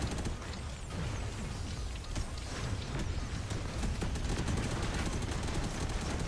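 Rapid automatic gunfire from robot weapons in the video game Robocraft, a dense continuous stream of shots with sharp transient bursts over a busy battle din, with no talk.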